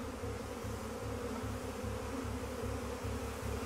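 A swarm of bees buzzing steadily in a low, dense drone with a pulsing rhythm, moderately faint and close, with no voices.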